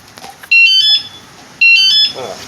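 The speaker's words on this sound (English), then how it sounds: "Oh crap! I turned my alarm on." A Venom X22 GT 250cc motorcycle's alarm sounds in two loud, shrill electronic bursts, each a fast warbling chirp pattern lasting about half a second, with faint background noise between them.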